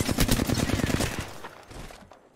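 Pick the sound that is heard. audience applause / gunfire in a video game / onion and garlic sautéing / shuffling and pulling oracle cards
gunfire in a video game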